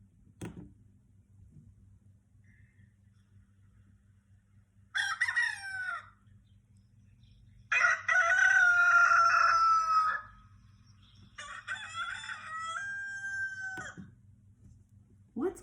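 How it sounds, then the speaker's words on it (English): A rooster crows loudly several times in a row, each call a long bright cock-a-doodle-doo separated by short quiet gaps, with nothing else heard. "That is the sound of a rooster."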